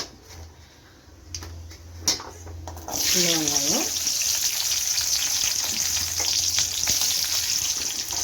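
Small shallots hit hot oil already holding mustard seeds, cumin and fenugreek for a Tamil vatha kuzhambu. A few soft clinks come first, then a sudden loud, bright sizzle that holds steady to the end.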